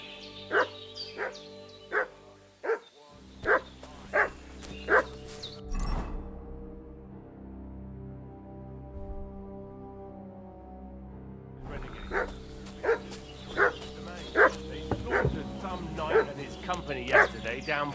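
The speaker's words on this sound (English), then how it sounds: "What's that dog making such a fuss about?" A dog barks repeatedly in Kingdom Come Deliverance II. Loud, evenly spaced barks sound at close range, pause for several seconds, then resume in a faster run.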